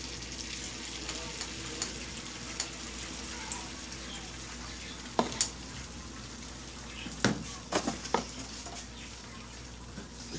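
A tortilla fries on a griddle after bacon has been cooked, giving a steady soft sizzle with occasional sharper pops and scrapes, heard alone with no talking.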